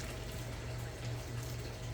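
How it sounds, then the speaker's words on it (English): Water poured in a small amount into a worm bin, a steady close pouring and splashing that runs unbroken throughout with a low hum underneath. "just put a little bit of water, not a whole lot"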